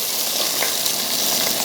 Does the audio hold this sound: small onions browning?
yes